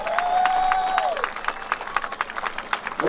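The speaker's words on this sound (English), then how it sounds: "we must have a round of applause for that man one more time" Audience applause at a street-naming ceremony in Vallejo, a short burst of scattered clapping that thins into separate claps, with a whistling tone early on.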